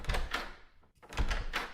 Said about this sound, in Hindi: दरवाजा खोलना, देखना कौन है।